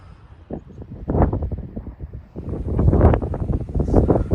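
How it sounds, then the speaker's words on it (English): Gusting wind buffets the microphone on an exposed moorland hillside in Bleaklow near Ogden Clough on the Pennine Way, loud rumbling gusts that rise and fall with no talk. "Now the wind's picked up, a bit more exposed up here."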